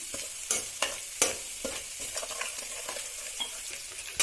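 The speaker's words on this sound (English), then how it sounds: "So it should be fried until it turns the color into golden, and it should leave all the flavor in the oil." Cauliflower florets for gobi Manchurian deep-frying in oil, a steady bright sizzle with several sharp clinks and scrapes of a spoon stirring against the pan.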